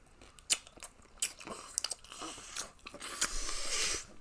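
Close, wet crunching and chewing of crusted chicken bones, with irregular bites and grinding that build into a denser stretch of chewing near the end, heard alone with no talk.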